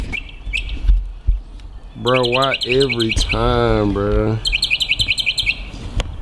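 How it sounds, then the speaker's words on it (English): Birds chirping nearby, with rapid bursts of high tweets repeating through the scene while someone talks over them in a loud, emphatic voice. "these birds, bruh."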